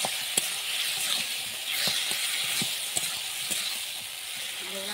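Fried potatoes stirred into spiced oil in a pan give a steady sizzling hiss, broken by sharp clinks of the spatula against the metal pan at irregular intervals.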